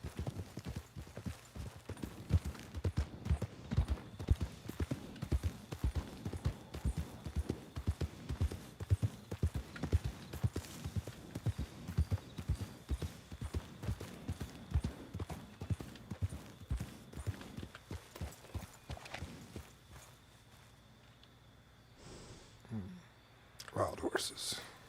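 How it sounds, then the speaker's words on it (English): Wild horses trotting in a ranch roleplay video game, a rapid steady clip-clop of hooves close by for most of the stretch, fading out near the end before brief movement returns. "Wild horses."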